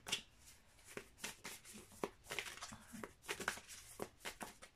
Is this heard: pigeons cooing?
no